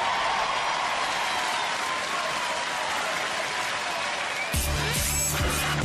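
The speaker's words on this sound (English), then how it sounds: "A big round of applause for both of our teams that competed here today." Audience applause at a Robot Wars arena after a robot combat match, a steady, dense roar of clapping and crowd noise that continues until a sudden mechanical music-like tone cuts in at the end.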